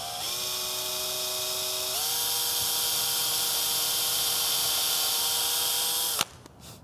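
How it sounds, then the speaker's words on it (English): A small electric drill whines steadily as it bores a hole partway into a resin replica dagger, the pitch dipping slightly under load before cutting off abruptly near the end; close and loud, with no talking. "I just need to drill a tiny hole partially through it."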